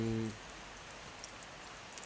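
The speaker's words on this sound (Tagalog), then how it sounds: "medyo humina na ang ulan" Rain falling on a farm field, a steady broadband patter with occasional drops, after a brief low tonal sound at the very start.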